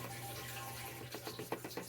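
Water runs and splashes faintly into a hydroponic garden tower's container, a soft continuous stream with small gurgles and drips toward the end.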